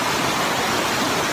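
Waterfall at Langkuik Talago in Malalak Selatan, a loud, steady, close rushing roar of falling water with no talk.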